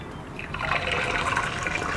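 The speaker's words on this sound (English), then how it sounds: "You should hear the splash straight away, you should hear that sizzle straight away" A cracked egg hits hot oil in a pan, giving a steady, close, crackling sizzle with a watery spattering hiss that holds at an even level throughout.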